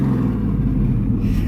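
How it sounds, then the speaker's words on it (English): Muscle truck engine with its exhaust cutouts open idles and revs in a deep, loud, continuous rumble, close by and with no voices over it. "just to open the cutouts and rev that thing"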